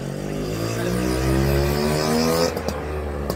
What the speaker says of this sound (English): Got a little lawnmower engine in it.